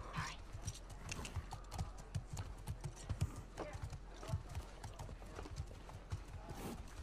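Steady clip-clop of horse hooves trotting in the video game The Last of Us Part II, a quick even rhythm over constant background noise.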